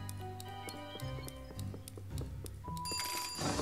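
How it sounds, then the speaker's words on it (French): Timer ticking in Luigi's Mansion 3 on Nintendo Switch, a steady run of bright clock-like ticks over a tonal chiming jingle that grows denser and more urgent toward the end. "le minuteur est super court"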